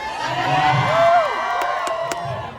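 An audience section cheers loudly at a Frozen 2 cast Q&A, a brief swell of crowd noise with high whoops and whistles rising and fading.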